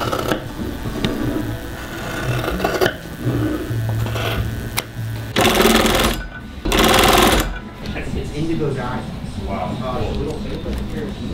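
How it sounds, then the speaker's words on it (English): A sewing machine hemming jeans whirs in two loud bursts amid steady background noise, with people talking nearby before and after. "I love watching people use sewing machines"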